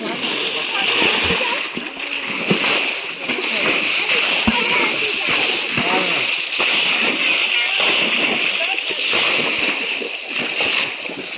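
Water is bailed out of a river pool in the Konkan during a village fishing drive, splashing and sloshing continuously and loudly as many buckets are emptied.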